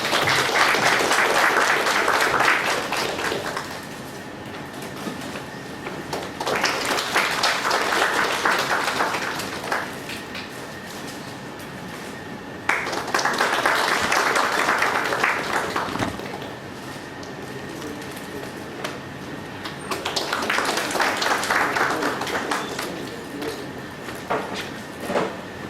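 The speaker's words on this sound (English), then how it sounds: "Members, let's have a round of applause." Audience at an income tax outreach program event applauds in several sustained bursts of dense clapping, each swelling and fading, with brief quieter gaps of room murmur between them.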